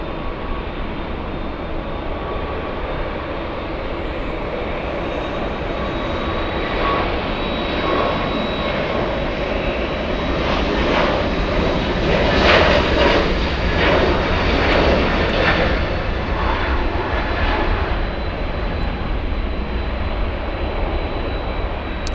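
Boeing 787 airliner moving at Los Angeles LAX airport, a broad steady engine roar that swells gradually and stays loud and continuous throughout, with no talking.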